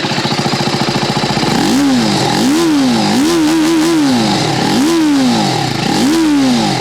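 TVS Apache RTR 310 motorcycle exhaust revved repeatedly at a standstill, a steady idle broken by five or six sharp throttle blips that rise and fall back, loud and close with no talk.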